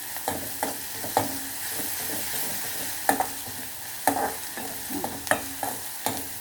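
Sliced onions frying in a pan for bean leaf thoran, with a steady soft sizzle and a series of sharp scraping stirs and spoon taps at irregular intervals, close and moderately quiet.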